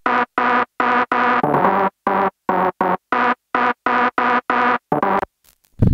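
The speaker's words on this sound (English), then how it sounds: "It's a rave style sound" A rave-style synth plays a melody in short, punchy, distorted stabs with a steady choppy rhythm and brief gaps between notes, loud and alone, ending in a short tail.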